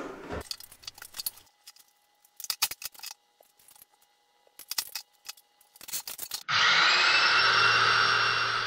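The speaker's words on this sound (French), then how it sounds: "Du coup j'amorce la machine pour pouvoir l'utiliser derrière" An airless paint sprayer being primed starts with scattered clicks and handling noises, then breaks into a loud, steady hissing rush that runs to the end.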